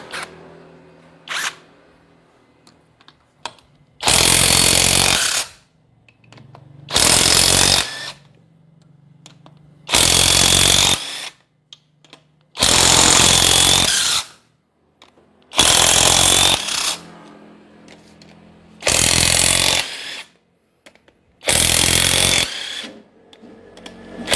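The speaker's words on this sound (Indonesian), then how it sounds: "Kita lanjutkan kembali untuk membuka baut silinder head." A power tool loosens the cylinder head bolts on a Toyota Innova 2.0 petrol engine in seven loud, rattling bursts of about one to two seconds each, with quiet gaps between them.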